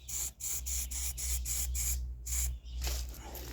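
Short, repeated hissing bursts of an aerosol spray can applying camouflage paint to a Cold Steel Gurkha Kukri Plus sheath, its screws and sides, with brief pauses between strokes and a low steady hum beneath.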